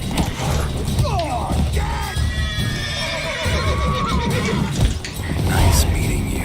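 A horse in The Witcher 3 video game whinnies several times with rising and falling squeals, mixed with hoof clatter and mechanical rattling, loud and close under a busy game soundtrack.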